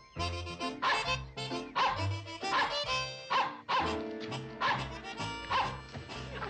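A dog barks and yips repeatedly in quick bursts against a busy background of music.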